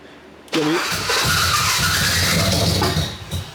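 An LS-swapped BMW E46 cranks over and fails to catch as it floods, with a loud, steady whirring starter and churning engine lasting a few seconds before fading, close to the car.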